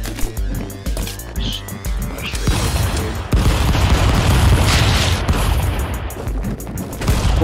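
Rapid gunshots in the Stick Fight video game, a dense string of loud pops and booms running almost continuously, with players talking over the shooting.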